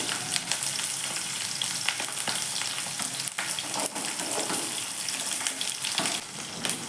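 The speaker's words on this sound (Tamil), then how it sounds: "நம்ம கட் பண்ணி வச்சுருக்க சின்ன வெங்காயத்தையும் பூண்டையும் அதில் சேர்த்துட்டு நல்லா வதக்கிக்கலாம்." Small whole shallots and garlic cloves sauté in hot oil in a pan, a continuous close sizzle and crackle with faint stirring scrapes throughout, no voices.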